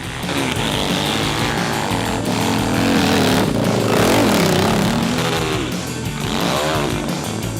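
A dirt bike engine screams up a steep hill climb at an impossible-climb race in France, a loud continuous high-revving drone rising and falling in pitch, close and alone without talk.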